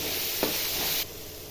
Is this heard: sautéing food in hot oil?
yes